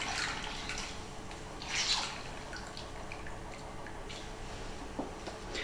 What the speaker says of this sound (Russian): отжимаем, чтобы вода у нас в глаза пациенту не затекала